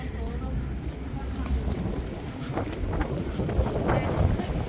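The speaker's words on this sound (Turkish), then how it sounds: "Çok rüzgar var gerçekten" Strong wind roars steadily at the Maiden's Tower with low rumbling gusts buffeting the microphone, and a voice can be heard faintly underneath.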